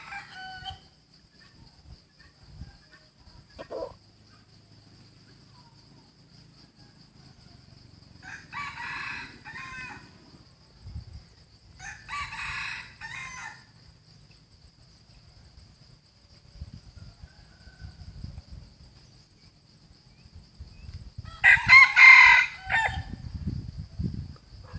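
A chicken rooster crows several times in a quiet outdoor setting, each call a distinct burst separated by long pauses, with a steady insect hum and occasional low thumps in the background.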